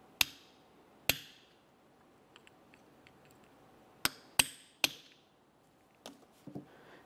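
Hammer tapping an actuator gear onto the shaft of a 2004-2010 BMW X3 transfer case: sharp metallic strikes, two early, then three in quick succession and a softer pair near the end, close and clear in a quiet garage.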